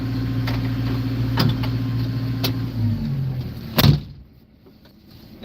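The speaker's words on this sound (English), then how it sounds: "Let me close this door so y'all can hear me better." The cab door of a Cat 317 excavator shuts with a solid thud over a steady engine rumble, and the cabin noise drops sharply afterward.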